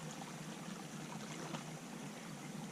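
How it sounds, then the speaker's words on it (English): Spring water welling out of the ground at an atmospheric wild-camp spot, a close, steady rushing trickle that runs without a break. "This is where the water flows from, comes out the ground here."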